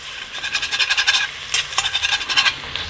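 Bacon sizzles in a skillet alongside sausage while chili is being made, a steady crackling hiss with dense popping spatters throughout, fairly close and alone.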